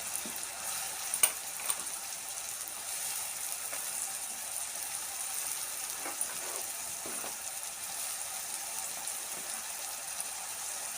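Ridge gourd pieces frying in a pan, a soft, steady sizzle at moderate distance with a few sharp metallic clicks and stirring scrapes scattered through, fairly quiet overall.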